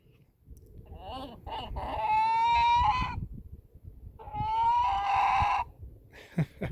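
A rooster crows twice in a farmyard, each call a long drawn-out harmonic cry lasting about a second and a half, close and fairly loud, with a shorter squawk near the end.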